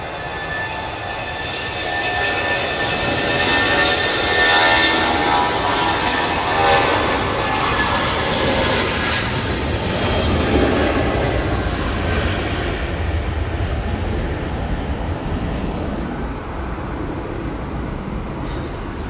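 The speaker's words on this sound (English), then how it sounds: "Nice and early there for that A320 going back to Hamburg." An Airbus A320 at Manchester Airport during a storm, its engines roaring loud and steady throughout with a broad rushing drone that swells and slowly eases, no voices.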